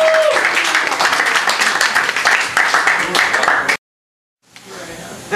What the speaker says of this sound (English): I want you to clap it up for Ramon Molledo